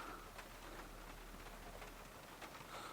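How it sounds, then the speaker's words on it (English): Heavy rain falls steadily outside a van at night, a dense even hiss of drops with a constant low rumble, heard from inside, no voices. "It's really raining out there now."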